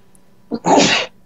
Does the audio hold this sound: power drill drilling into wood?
no